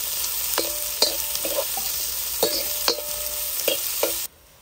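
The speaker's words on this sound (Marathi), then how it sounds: "कांदा आपल्याला बराच वेळ परतून घ्यायचा" Chopped onions sautéing in hot oil, cooked a long while toward golden brown for a bhuna masala. A continuous close sizzle is broken by repeated spatula scrapes and stirring strokes at irregular intervals, then cuts off abruptly near the end.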